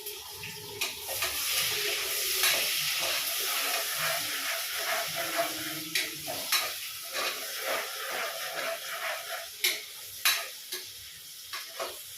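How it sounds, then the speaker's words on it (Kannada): Spices crackle and pop in hot oil over a steady sizzling hiss, with sharp irregular snaps growing more frequent toward the end. "ಒಗ್ಗರಣೆ ಮಾಡ್ಬೇಕಾದ್ರೆ ತುಂಬ ಹೆದರಿಕೆ ಕಿಟಕಿಟ ಕಿಟಕಿಟ ಅನ್ನತ್ತಲ್ಲ"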